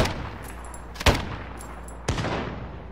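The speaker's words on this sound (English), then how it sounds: "That's why I'm sniping at the driver." Sniper rifle shots fired at a helicopter pilot in a first-person shooter, two sharp loud cracks about a second apart against a low background rumble, with no talking.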